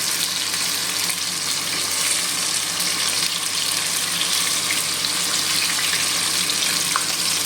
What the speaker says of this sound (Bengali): তার জন্য তেলের মধ্যে ভেন্ডিগুলোকে দিয়ে দিলাম